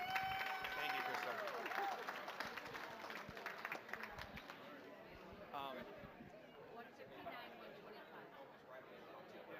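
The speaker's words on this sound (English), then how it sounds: "give Mrs. Dipple the round of applause" Scattered applause mixed with crowd chatter at a school parish auction event, fairly faint and diffuse with a brief tone near the start, murmuring voices continuing underneath.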